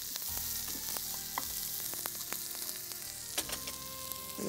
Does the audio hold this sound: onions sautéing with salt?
yes